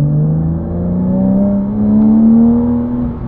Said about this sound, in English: the flat six sounds great